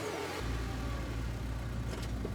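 A tiny two-seater truck engine from the video game Scarlet Hollow turns over and settles into a low, steady rumble, fairly quiet and close, with no speech over it.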